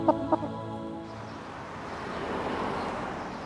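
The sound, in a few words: chicken clucking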